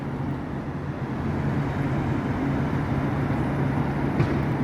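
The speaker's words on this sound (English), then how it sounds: "we've only got one bus in at the moment, but there's all the traffic coming past" A continuous low roar of road traffic passing by, steady and fairly loud, with no voices.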